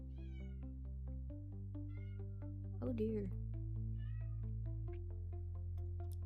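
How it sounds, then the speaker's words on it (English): A cat yowls loudly and repeatedly right outside a door, long drawn-out wavering cries one after another, with a person briefly speaking over them. "There's a kitty yowling outside my door."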